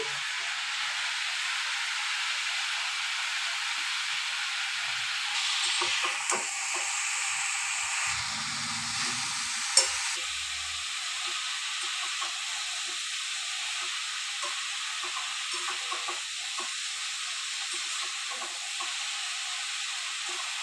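Bottle gourd frying in a pan sizzles with a steady, close hiss, with a brief scrape of stirring partway through and a single sharp clink, no voices present.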